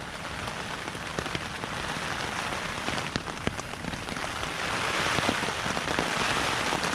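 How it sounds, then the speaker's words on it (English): Heavy rain pours down steadily on a winter woodland camp during a storm, a dense hiss of drops drumming on a surface nearby, growing slightly louder toward the end. "just non-stop heavy rain now"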